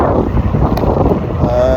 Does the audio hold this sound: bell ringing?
no